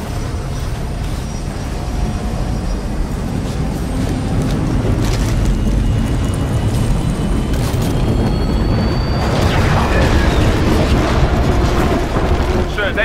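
Cannon fire and explosions from the Titanfall PC video game, a dense continuous roar of booms and rumbling blasts with heavier bursts near the end, loud throughout with a voice faintly under the din.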